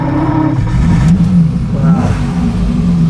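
A 1959 Ferrari 250 GT Pininfarina Coupé engine runs loud and close after starting, with a steady mid-pitched roar and slight revving swells throughout.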